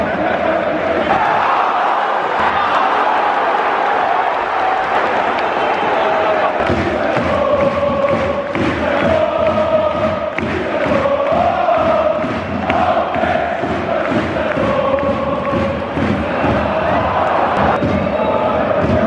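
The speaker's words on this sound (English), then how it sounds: "Everyone's cheering." German soccer fans in a stadium crowd roar and chant continuously, a loud, dense wall of cheering with rhythmic chant surges and occasional voices close by.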